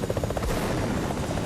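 A helicopter in Fortnite drones loudly and continuously, its rotor chop pulsing with a low rumble from start to finish, with no talk over it.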